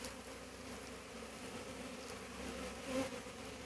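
Honeybees hum around a beehive after a swarm, a soft, steady buzz with a few individual bees passing a little closer, with no voices.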